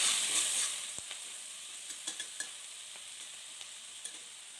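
Onions and chili powder fry in hot oil as a tempering for sweet potato. A soft steady sizzle starts a little louder, then fades, dotted with light spatula taps and stirring scrapes, with no talk.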